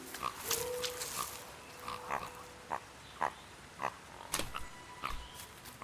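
Pig grunting in the video game The Last Campfire: a string of short, snuffling grunts and snorts at an uneven rhythm, fairly close and moderately quiet over a soft ambient background, with no talk.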